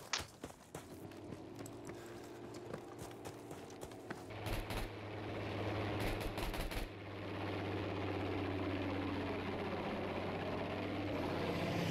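Military aircraft in Battlefield 5 spooling up and taking off, a steady engine drone that swells louder around midway and holds, with scattered gunfire cracks across the scene.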